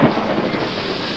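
Intense rain pours down in a storm with howling wind and lightning, a dense, loud, continuous roar with a low rumble swelling at the start, no voices.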